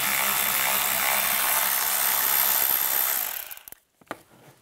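A 6 mm socket ratchet turns a bolt out under the dash of a 1998-2010 Volkswagen Beetle during blower motor work: a dense, steady run of close ratcheting for about three seconds, then it stops and a few faint clicks follow.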